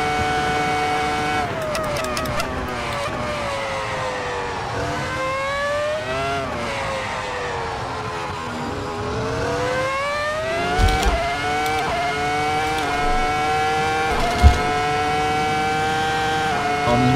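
A Ferrari F2004 Formula One car's V10 engine screaming at high revs around Silverstone in the racing game Assetto Corsa, rising and falling through gear shifts, loud and continuous with a few sharp thumps.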